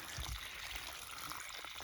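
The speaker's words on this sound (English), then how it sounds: "This thing is dumping out serious water." Water gushing out of a test device in a homemade aquadynamics setup, a steady, fairly quiet trickling pour that runs continuously for about two seconds without speech.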